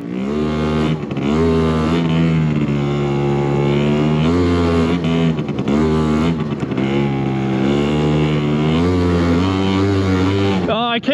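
A 2-stroke scooter engine screams at wide-open throttle, loud and close, its pitch holding high with brief dips and surges, while someone talks over it.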